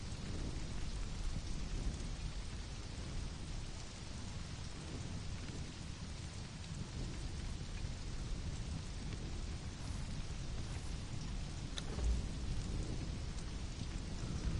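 Heavy rain in the video game Conan Exiles hisses steadily throughout, with low rumbling underneath like distant thunder; no voices.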